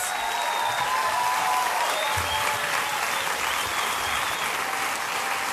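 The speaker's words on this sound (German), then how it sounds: "Großer Applaus" A studio audience at a late-night TV show breaks into loud, sustained applause, a dense wash of clapping that holds steady throughout with no voices heard.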